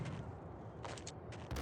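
Gunfire in Max Payne crackles in several quick bursts of shots over a low, rumbling background, loud and close, with no talk.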